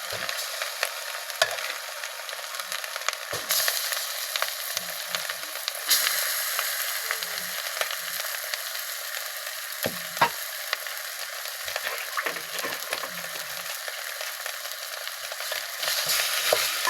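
Boiled olives stirred into frying spices for a sweet-sour-spicy olive pickle, a continuous bright sizzle with occasional scrapes and knocks of the spoon, near and steady throughout with no voices.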